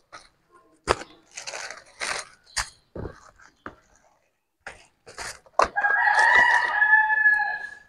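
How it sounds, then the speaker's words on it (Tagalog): Roosters at an outdoor market stall, with scattered clucks, thumps and short noises before one crows loudly and close in a long, drawn-out call near the end. "Nagtitilaok ang mga manok."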